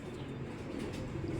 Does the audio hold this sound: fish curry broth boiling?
no